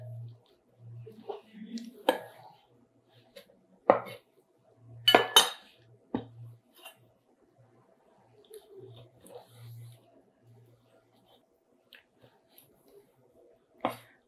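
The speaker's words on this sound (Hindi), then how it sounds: "इसी तरह मैं इसके ये लंबे लंबे पीस काट लूँगी" A knife slices raw liver into long pieces on a board: sparse, irregular taps and clicks of the blade, some louder knocks, with quiet gaps and faint low background hum between cuts.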